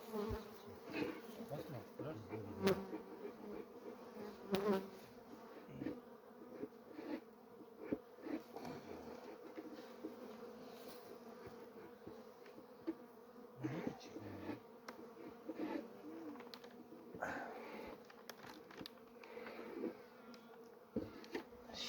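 Steady, dense buzzing of many honey bees at close range at a hive wintering outdoors, a continuous drone with brief louder swells, nobody talking.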